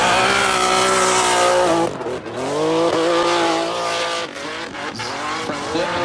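A drift car at a Formula Drift event in Florida slides at angle, its engine roaring loud and close with rising and falling revs over steady tire squeal and skidding, with a brief dip near the two-second mark.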